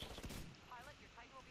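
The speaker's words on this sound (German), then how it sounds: "Shotgun." Shotgun blasts in the Titanfall beta, a sharp report near the start followed by rattling gunfire trailing off, fairly faint within a busy game mix.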